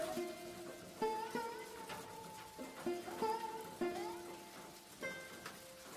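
Steady rain falls on a surface as part of a Hindi moral story, a soft continuous patter under a gentle melodic music bed with chime-like notes, with no voices.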